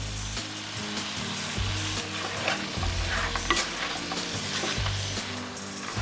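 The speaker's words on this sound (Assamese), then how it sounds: "এতিয়া খালি লৰাই থাকিব লাগিব মাজে মাজে ঢাকনি মাৰি দিব লাগিব তাৰ পিছত আকৌ লৰাই থাকিব লাগিব" Mutton with spices fries in a pot for an Assamese mutton curry, giving a loud, continuous sizzle while a utensil stirs and scrapes repeatedly through the meat, close by with no talking.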